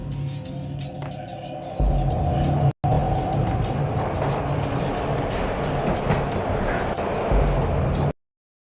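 Steady rumbling train noise from Max Payne (PS2) with rhythmic clatter and a low drone, loud and continuous, briefly cutting out partway through before resuming.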